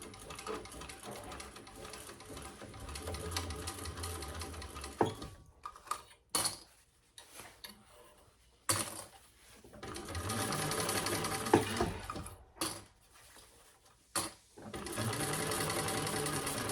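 A sewing machine basts a slip pocket onto a bucket bag in bursts of close, steady stitching, separated by pauses, with small clicks and handling noises between runs.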